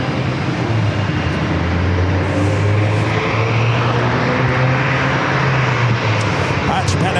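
Japan Airlines Boeing 787-9 Dreamliner on final approach to runway 27 at San Diego airport, a loud, sustained jet roar with a slowly shifting engine whine as the airliner passes nearby.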